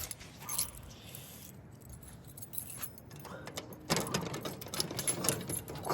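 Keys jangling at a car wash in India, a bright metallic rattle in short clusters that grows busier and louder toward the end over background rumble, with no talk.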